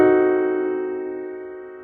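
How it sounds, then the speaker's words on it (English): A piano sounds a single diminished chord, struck once and left to ring, its tone decaying gradually and alone. "a diminished chord sounds like this."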